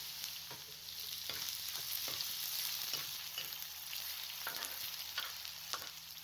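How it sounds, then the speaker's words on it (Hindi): Onions fry in oil over a medium flame for a mutton dish, a steady soft sizzle with light stirring scrapes throughout and no talking. "मीडियम फ्लेम पर प्याज को ब्राउन करना है।"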